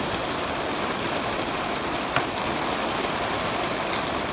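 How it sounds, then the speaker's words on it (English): Steady rain falls during an afternoon storm, a continuous even hiss of drops with no talk. "Yeah, it just rained now."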